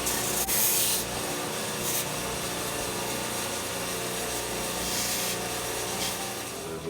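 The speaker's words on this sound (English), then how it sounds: "Clean that up with some sandpaper." Sandpaper rubbing steadily over a wooden prop bow, a continuous close scratchy friction with no pauses and no talk.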